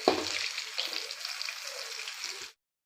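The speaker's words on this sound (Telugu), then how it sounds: "మిరపకాయలు వేగాయి" Green chillies fry in hot oil with a steady, dense sizzle and crackle, close and moderately loud, with a brief stir near the start before it cuts off abruptly.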